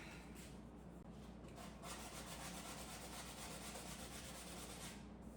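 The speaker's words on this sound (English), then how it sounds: "I have this old sanding block, and this is all I have" Steady, rhythmic scratchy rubbing of an old sanding block on wooden cabinets, continuous back-and-forth strokes, fairly quiet and close.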